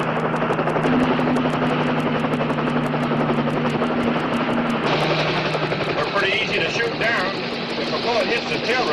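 Police highway patrol helicopter in flight, a steady loud rotor and engine drone throughout with a rapid, tight burst of sharp gunfire-like clatter layered on top, intensifying in the second half.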